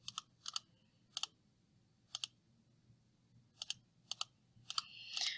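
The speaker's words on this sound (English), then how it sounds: "I know it's really exciting watching me click numbers." Number keys pressed on a graphing calculator: sparse, crisp plastic clicks, some in quick pairs, spread irregularly over a quiet room, close to the mic and without talking.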